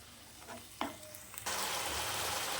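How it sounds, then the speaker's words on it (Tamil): Garlic and green moong dal ingredients are stirred and sautéed in a pan, giving a few scraping stirs followed by a steady, soft sizzle of frying. "பச்சை ஸ்மெல் போகிற வரைக்கும் நல்லா இப்படி கிளறி விடுங்க."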